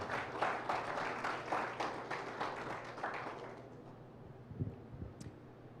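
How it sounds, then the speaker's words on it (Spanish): A church congregation applauding, many hands clapping in a steady wash that fades out after a few seconds, leaving a quiet room with a few scattered taps. "Dale un aplauso al Señor."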